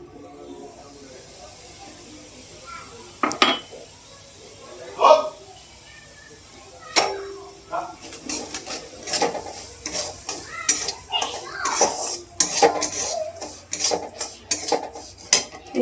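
Semolina fries in melted ghee in a pan with a soft sizzle while a spoon scrapes and clicks against the pan in irregular strokes, and a voice talks over the cooking.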